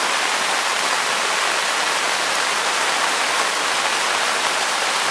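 Waterfall on the road toward Mahabaleshwar in steady flow during rain, a continuous broad roaring wash of falling water, loud and close, with no voices.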